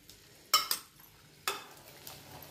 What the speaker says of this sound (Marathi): हे परत हलवून घेऊ.